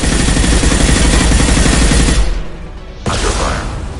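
Sustained automatic gunfire in a Mass Effect Legendary Edition battle, loud and dense for about two seconds, then a brief lull before another burst of rapid shots resumes.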